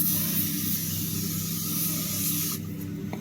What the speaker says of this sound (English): spray the formula on the wheel one more time